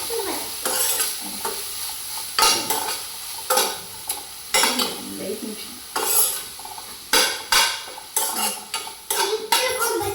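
Broccoli fries in a pan while a utensil stirs and scrapes against the metal in repeated bursts, with clattering strokes rising over a softer background sizzle.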